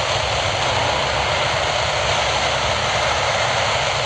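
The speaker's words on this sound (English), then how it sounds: "There's the reversers." Airliner engines roar loudly on landing at Minneapolis–Saint Paul International Airport as thrust reversers deploy on a rainy day, a steady, dense, close-by rush of jet noise with no pauses.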